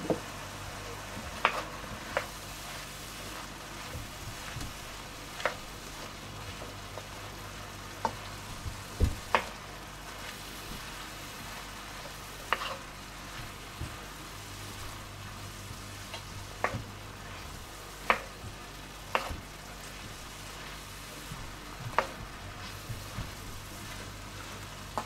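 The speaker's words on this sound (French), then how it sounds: "On va remuer." Apple crumble filling with cinnamon is stirred in a frying pan, giving a soft continuous sizzle punctuated by sharp, scattered clicks and taps of a utensil against the pan.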